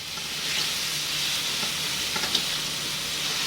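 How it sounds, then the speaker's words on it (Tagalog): Tomatoes being crushed while sautéing in a pan, giving a steady close sizzle and frying hiss with soft scraping and squishing from the stirring, plus a couple of brief knocks near the end. "Durugin natin yung kamatis mga idol para maglasa"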